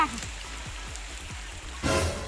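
Rain falls steadily outdoors as a constant hiss on surfaces, with a few low thumps early on and a sudden louder surge of rain noise near the end.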